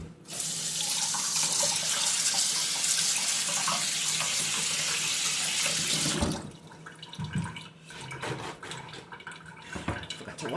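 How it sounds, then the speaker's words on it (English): Produce rinsed under a running kitchen tap while making a Middle Eastern salad, a steady loud rush of water for about six seconds, then the flow stops and scattered splashes and handling sounds follow. "So I always like to wash my produce before I use it, whether I'm peeling it or not."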